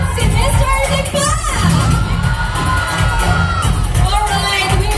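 Pageant supporters at a Mister Friendship International Philippines event shouting and cheering, a loud continuous crowd roar with high whoops throughout.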